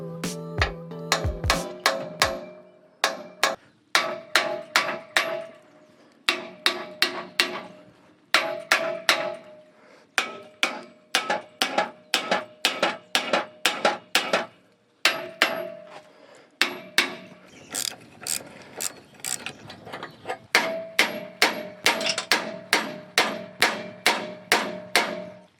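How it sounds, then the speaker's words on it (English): Repeated sharp metallic hammer blows ring out close by as a nut is knocked loose on an Iveco VM90 truck chassis, struck in quick bursts of several hits separated by short pauses. "I think that little bit of relief on the thread was enough to loosen it with the hammer"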